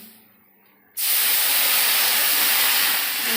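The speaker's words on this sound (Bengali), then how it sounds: "এবার জল দিয়ে দেবো জল দিয়ে ঢাকা দিয়ে দেবো" Near silence, then a sudden loud hiss as water hits a hot frying pan of fried dal, settling into a steady, roaring sizzle that continues to the end.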